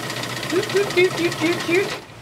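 A sewing machine stitches stretched elastic onto fabric in short repeated bursts of rapid mechanical chatter, close and fairly loud, stopping near the end.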